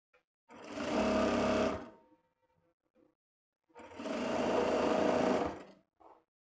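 A sewing machine stitches a vest seam in two close, steady bursts of a second or so each, separated by a quiet pause.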